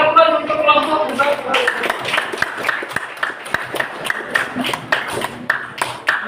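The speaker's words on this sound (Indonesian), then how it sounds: "Berikan aplaus untuk kelompok" A student group in a classroom gets applause, a round of scattered clapping and taps lasting several seconds after a short spoken line at the start.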